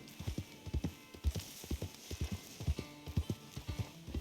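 A chestnut Arabian horse in a video game clip-clops along with steady, even hoofbeats, quiet and close, the soft rhythmic clatter continuing throughout.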